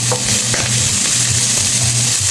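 Chopped onion hits hot oil in a pan of frying jackfruit, giving a loud, steady sizzle with a few brief stirring scrapes, heard close and alone.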